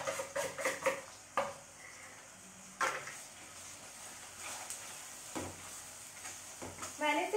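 Tomatoes with turmeric powder and cumin-coriander paste fry in a pan, a soft continuous sizzle broken by several sharp spoon-stirring clinks against the metal, fairly quiet.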